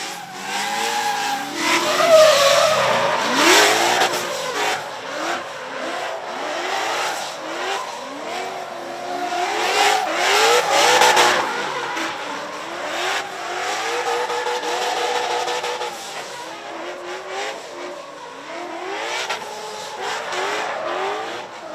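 Race cars hot lapping a skid pad at Hyperfest 2022 rev hard, with engines rising and falling and tires squealing and skidding again and again, loud and continuous for the whole stretch.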